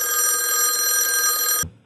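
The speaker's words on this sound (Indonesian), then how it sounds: "kemudian telepon berdering." A classic telephone bell ringing loud and close in a gangster film, one continuous bright trilling ring that stops abruptly after about a second and a half and is followed by a soft low thud.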